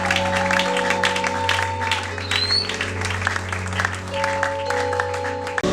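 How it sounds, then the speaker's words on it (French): A church congregation at a pastor's service cheers and applauds loudly and steadily, crowd noise filling the room over a sustained musical drone, with a sharp bump near the end. "Je vous demande d'acclamer encore plus fort pour le Dieu de notre papa."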